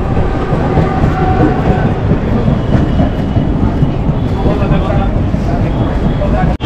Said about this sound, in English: was gonna take a photo of the train.